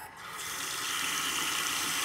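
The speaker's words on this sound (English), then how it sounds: "I just went to the bathroom and just turned on the sink just to see what would happen." A bathroom sink tap is opened and water gushes out, starting soft and quickly rising to a steady, close, continuous running stream with no voices.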